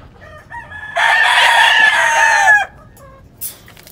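A two-year-old giro rooster on a farm gives one loud, close crow that rises and holds for over a second before cutting off, with quiet surroundings and no talking.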